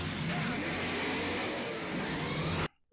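Movie crash scene with cars colliding in a chaotic pileup after a figure falls onto a car: a dense, loud wall of engine roar, whirring and crunching noise for nearly three seconds, then a sudden cut to near silence.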